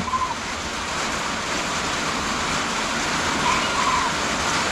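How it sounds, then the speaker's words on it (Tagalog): Steady rain hissing evenly throughout, a dense continuous wash of noise with no voices. "Yan na ang ulan."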